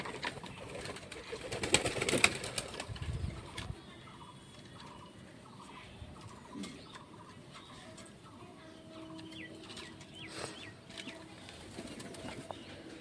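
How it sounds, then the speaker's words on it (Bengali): A pigeon coos softly in a home loft, low murmuring calls scattered through a quiet background after a burst of louder rustling and movement near the start. "পায়রাটা এখানে বসে রয়েছে"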